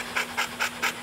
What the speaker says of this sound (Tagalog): Ayan o, hingal na.